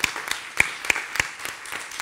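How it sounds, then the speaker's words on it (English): Applause from the audience at a youth entrepreneur awards ceremony: sparse, fairly faint claps spaced out over two seconds rather than a full ovation, with no voices. "let's have a big round of applause for our third annual Youth Entrepreneurial Workers"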